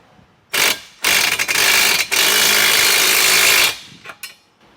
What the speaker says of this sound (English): So I'm going to do the same thing on the bottom bracket, and we'll fasten all of our bolts